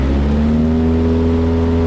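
A Zenith STOL CH 750 Super Duty light aircraft engine at full takeoff power, a loud, steady, close droning roar with a strong even pitch and no voices.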